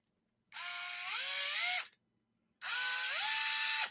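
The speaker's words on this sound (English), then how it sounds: "there's no chuck that has it locked in place, so it'll just free spin" A power drill with no chuck locked in place free-spins in two bursts, each a loud, close, steady whine that climbs in pitch as it spins up and then cuts off, with a short silent gap between the runs.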